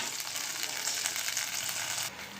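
Peanuts and sesame seeds roast in a pan, giving a soft, steady sizzle and light crackle close by, quiet and continuous with no talking.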